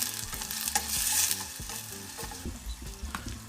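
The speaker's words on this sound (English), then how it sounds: "So we're just going to turn that up so then we can cook the onions right through for it" Onions frying in a pan over heat just turned up for sweet and sour fish, with a steady close sizzle broken by repeated scraping stirs of the spatula.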